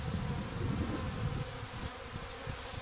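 Honey bees hum in a dense, continuous buzz over an open, east-facing hive. The drone is close and fairly loud at first, then eases slightly, with no voices.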